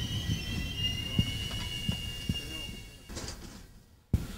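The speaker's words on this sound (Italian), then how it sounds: "ecco come arriva un treno" A train pulls into an icy station platform in La Spezia, Italy, its wheels squealing in a long steady high whine over low rumbling clanks and thuds, fading near the end before a sharp knock.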